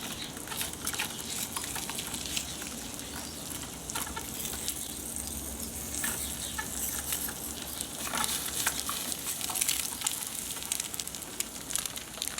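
Bacon and eggs fry in a pan on an outdoor motorcycle-camp breakfast stove on a cold morning, a close, steady sizzle and patter of spitting fat with scattered pops. No one talks.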